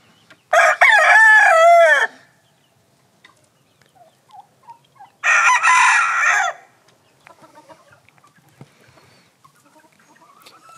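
Gamefowl roosters give two loud crows a few seconds apart, followed by scattered soft clucks and small farmyard sounds.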